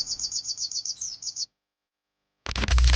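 A songbird in a competition setting, a young Shogun bird, chirps in quick repeated high bursts for about a second and a half, then goes silent, followed by a loud burst of broadband noise.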